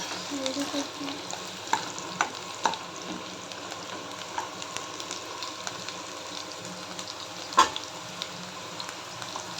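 Chopped onion and green chilli with whole spices such as cinnamon and bay leaves sizzling in oil in a pan, a steady close fry with occasional stirring scrapes and clinks.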